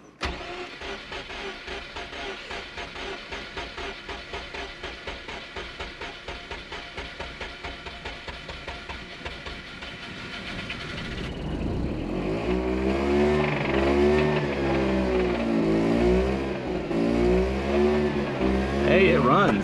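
An engine cranks rhythmically, then catches and starts, revving up and down loudly with a rough, uneven running sound; it will not idle, with a flashing check engine light.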